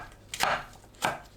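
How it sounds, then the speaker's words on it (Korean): Two crisp, close knife strokes chop through an onion on a cutting board, each a sharp thud-crunch about half a second apart, with nothing else audible. "양파를 1cm 두께로 썰어줍니다."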